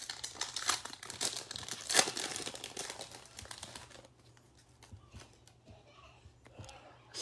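Crinkling foil wrappers as basketball card packs are torn open, close and fairly quiet, with rustling and tearing bursts that fade into near silence partway through.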